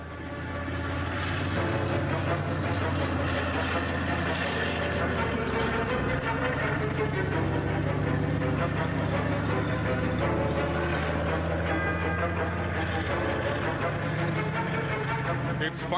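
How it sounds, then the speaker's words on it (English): An Arjun Armoured Recovery and Repair Vehicle, a variant of the Arjun Mark II built by CVRD with BEML Bengaluru, rolls past in a military parade with a loud, steady, continuous engine and track rumble throughout. "In front of you now, leading is the Arjun Armored Recovery and Repair Vehicle, a variant of Arjun Mark II"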